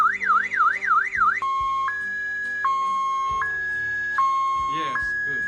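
A Cardot GSM GPS car alarm set off by a door opening blares nearby. A warbling siren tone gives way to a two-pitch alternating wail that keeps repeating, loud and steady, with faint clicks underneath.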